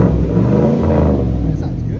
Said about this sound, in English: So it's a 2020 Silverado. With a twisted muffler by NETAMI.